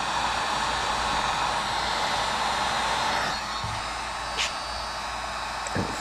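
A heat gun blows steadily while heating plastic body panels on a Can-Am X3, a loud continuous hot-air hiss and whir that drops slightly partway through, with a few faint knocks after.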